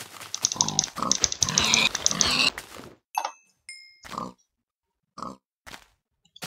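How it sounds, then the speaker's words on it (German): Pigs grunting in Minecraft, a dense burst of overlapping oinks and clicky game sounds, then several short separate grunts spaced by silence, close and clear. "Alter, wie viele Schweine gibt's denn da noch?"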